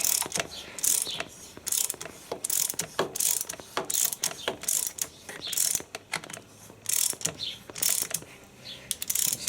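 Chain breaker tool pushing a rivet out of a Suzuki DR650 motorcycle chain, producing repeated ratcheting clicks in quick bursts, close and crisp, with short pauses between turns and no talking.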